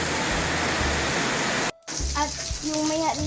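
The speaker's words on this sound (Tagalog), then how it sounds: "Tignan nyo guys, sa umuulan." Steady rain pours outside as a dense, even hiss, cut briefly by a gap before resuming under someone talking.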